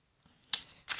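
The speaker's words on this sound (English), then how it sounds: "shuffling the cards." Quiet riffling of tarot cards in two short bursts, a soft papery flutter followed by a second brisk shuffle near the end.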